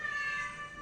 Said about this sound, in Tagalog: Nagmeow-meow.